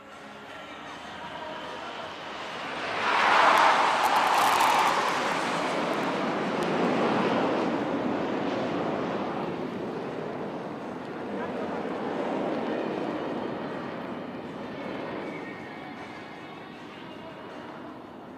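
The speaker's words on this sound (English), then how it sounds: "These aircraft will now be crossing each other right in front of you." Aerobatic aircraft cross each other at an air show, a broad roaring rumble swelling loud and then easing in waves under continuous commentary.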